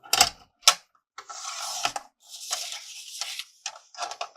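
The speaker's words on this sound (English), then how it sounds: "All right, we're going to cut a piece." Cutting a strip of card scrap for striped cards: a few sharp snips followed by longer crisp slicing strokes through the cardstock, close and fairly quiet, with short gaps between cuts.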